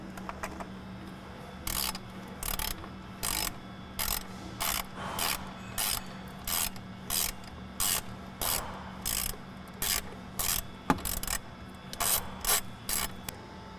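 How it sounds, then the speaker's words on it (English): A ratchet wrench backs off two nuts holding a hose assembly to a bracket during a cold air intake install on a 2.0L Ford Bronco Sport or Maverick. It gives repeated close, crisp clicking bursts in steady, evenly spaced pulls. "Remove these two nuts that are holding the hose assembly to the bracket"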